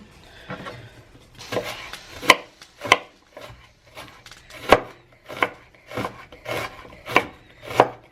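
Onion gets chopped with a knife on a cutting board in a home kitchen, the sharp blade strikes coming in an uneven run of about a dozen close, crisp knocks with brief pauses between them, no voice over them.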